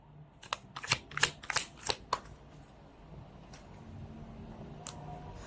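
Fortune cards being shuffled by hand: a quick burst of crisp riffling clicks and flutters, close and fairly loud, followed by softer scattered card taps over a quiet room background.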